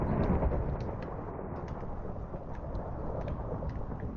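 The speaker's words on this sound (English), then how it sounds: "Are we that close to the surface to where we hear the thunder?" Thunder in the Minecraft video game rumbles loud and heavy throughout, a dense roll with a harder crack at the start and no talk over it.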